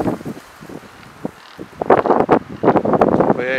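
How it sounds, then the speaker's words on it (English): Gusty wind buffeting a microphone outdoors in a backyard, rough low rumbling bursts that swell and fade unevenly, growing stronger in the second half. "Hopefully the microphone's not picking up too much of the wind,"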